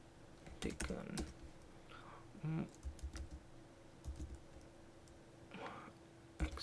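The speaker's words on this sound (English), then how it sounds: "I'll just type a name XYZ" Soft clicking keystrokes on a computer keyboard as a name is typed into a web form, scattered quiet taps with faint whispery breathing and background hum, close but low in level.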